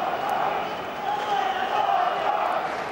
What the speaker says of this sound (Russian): Слышны болельщики Локомотива?